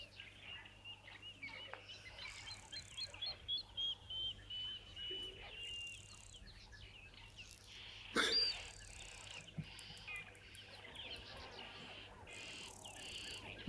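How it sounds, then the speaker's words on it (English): Bird chorus at an African waterhole with high, descending whistled calls of a water thick-knee, plus scattered chirps and insect-like trills, faint and distant, with a brief cough-like sound partway through. "one of the high-pitched whistling calls, descending whistling calls that you would have heard there is from a water thickney"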